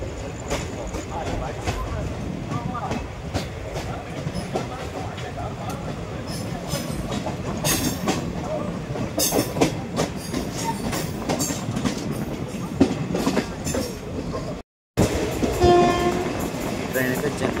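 The Guntur–Aurangabad Express, a superfast train, rumbles along steadily with clattering wheels and a continuous rolling roar. A brief horn comes near the end, after a short break in the sound.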